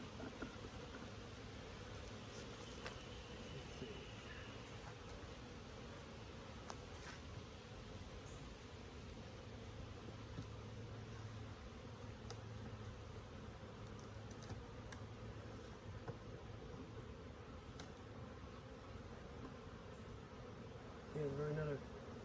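Steady, dense buzzing of honeybees swarming around an open hive as heavy honey frames are lifted on a farm, continuous and fairly quiet, with a brief louder moment near the end.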